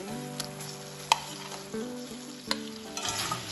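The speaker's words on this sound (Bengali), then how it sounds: "শিমটাও ভালোভাবে মশলার সাথে মিশিয়ে নেব" Fried flat beans stirred with spices in hot oil for a homestyle vegetarian Bengali dish: a steady close sizzle broken by scraping stirs and a few sharp spatula clacks against the pan, with no talking.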